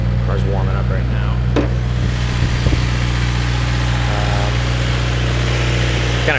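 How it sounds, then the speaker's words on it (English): A 2016 Subaru WRX with a Grimmspeed intake idles steadily while warming up, a loud continuous low drone with a faint intermittent voice and a brief click over it. "car's warming up right now."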